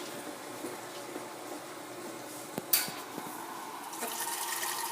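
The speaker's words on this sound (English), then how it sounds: "So all I need to add now is the water." Water poured into a pot of beef bourguignon stew, a faint continuous splashing fill that grows slightly louder toward the end after a couple of soft knocks, with no talking.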